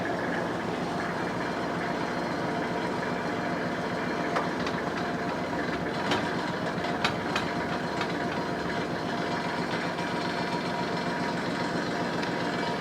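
A Kubota GL 25 tractor runs its rotary tiller as it is lowered, a steady, loud mechanical engine drone with constant rattling and clatter, running without pause throughout.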